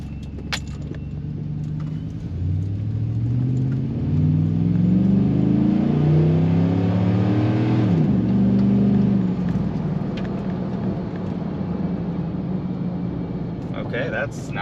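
A Chevrolet Silverado pickup with a tune pulls away from a driveway, its engine note rising steadily and dipping once as it shifts from first to second gear, then settling into a steady drone.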